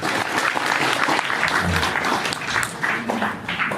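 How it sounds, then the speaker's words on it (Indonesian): An audience at a religious lecture at an Islamic boarding school in Dharmasraya bursts into loud, dense applause, a continuous wash of clapping from many people for several seconds. "Beri tepuk tangan buat beliau."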